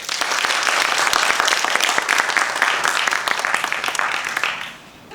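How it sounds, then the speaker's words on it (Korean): Lively audience applause at a smart city expo talk, a full clatter of many hands that holds steady for several seconds and then quickly dies away near the end. "박수 부탁합니다."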